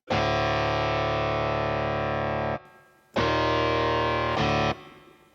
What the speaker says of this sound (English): How is the metal guitar sound?